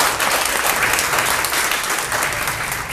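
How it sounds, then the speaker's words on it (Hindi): Applause from the audience at a sports award ceremony, a dense, steady wash of clapping hands that stays loud and even throughout. "इनके लिए भी एक बार जोरदार तालियां।"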